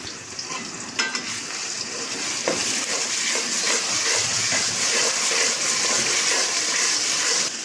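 Ginger-garlic spice paste hits a hot pan and sizzles steadily throughout, a dense, bright frying hiss with a few stirring clicks near the start, close and continuous with no talking.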